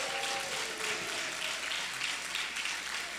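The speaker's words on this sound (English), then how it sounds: "let's give a bigger round of applause" An audience claps for children who have just performed on stage, giving a steady patter of applause at moderate distance.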